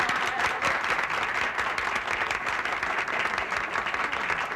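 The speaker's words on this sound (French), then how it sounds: "Vous pouvez l'applaudir" Audience applause for a deputy mayor at a French-language event, a dense steady clapping sustained from start to finish with no voices over it.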